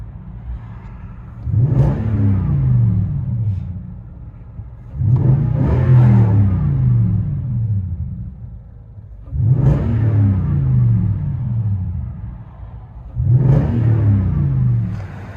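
A 2010 Toyota Tundra pickup with a 5.7L V8 and Black Widow Race Venom dual exhaust revs four times, each burst rising into a deep roar then dropping back to a low rumble, heard from inside the cab with no talk.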